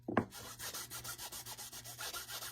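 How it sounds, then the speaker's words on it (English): A protective coat is rubbed and buffed onto a board with rapid, even back-and-forth strokes, a soft rhythmic scrubbing that is quiet and close, after a brief knock at the start. "You just need to rub a little bit on here to protect your surface."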